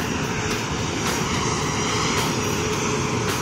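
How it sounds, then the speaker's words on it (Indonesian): A Cardig Air Boeing 737-300F Classic cargo jet roars steadily and loudly at an airport in Aceh, its engine noise a continuous broadband rumble with no break and no talk. "Hari ini kita kedatangan pesawat kargo Cardic Air dari Jakarta."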